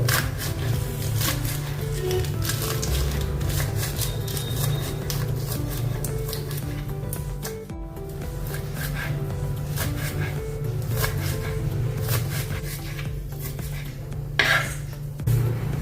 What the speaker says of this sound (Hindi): इसको बारीक काटना है पालक को